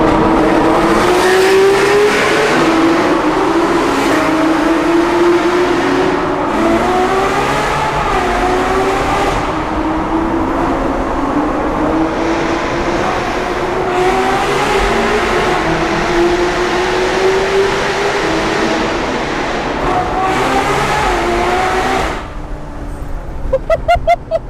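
A Ferrari 812 Superfast V12 revs loud and close for the whole run, pitch climbing and dropping in repeated sweeps with crisp blips between. Near the end it cuts off abruptly.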